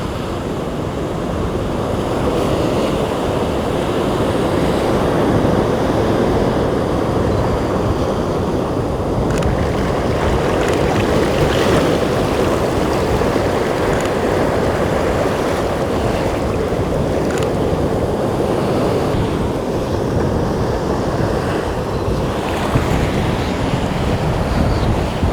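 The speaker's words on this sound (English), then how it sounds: "Waiting for the surf to come in here." Ocean surf rolls steadily onto a seascape shoreline, a constant loud wash of breaking waves mixed with gusting wind buffeting the microphone, with no voices throughout.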